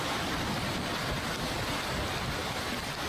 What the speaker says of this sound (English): Look at the gusts